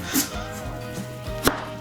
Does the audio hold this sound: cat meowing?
no